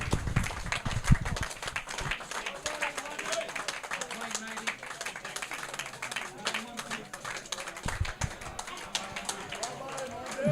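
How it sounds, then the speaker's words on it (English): Crowd applause at the Foursquare Oval cricket ground as a batsman walks off after being caught, a steady spread of clapping throughout with a commentator talking over it. "Deserves every bit of the applause that he got here"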